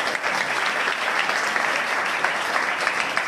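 Steady, dense clapping from a crowd at an election rally, loud and continuous throughout with no pauses.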